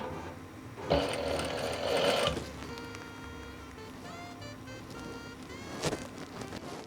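A Juki sewing machine with a zipper foot stitches along a zip in short bursts, its whirring motor loud for a couple of seconds, then quieter mechanical rattling and brief clicks.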